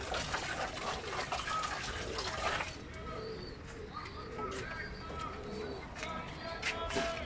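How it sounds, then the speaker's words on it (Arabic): Pigeons coo softly amid splashing water from a pigeon keeper's bathing spot, the cooing and gushing fairly faint and steady, with occasional voices nearby in the background. "الحمام راه باغي يعوم"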